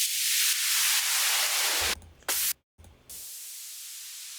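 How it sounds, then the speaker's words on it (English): A loud burst of white noise hisses and falls away as a downer sweep effect in a tech house drop, then stutters and cuts out in choppy gaps before a steady hiss returns. "add a short sweep or like a white noise downer effect"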